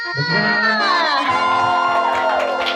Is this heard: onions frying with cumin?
no